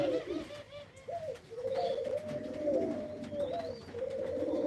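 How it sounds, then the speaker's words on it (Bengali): Domestic pigeons cooing inside a pigeon house, soft repeated throaty coos from several birds close by, with faint chirps and light rustling in the background. "এই আমার কবুতর ঘর"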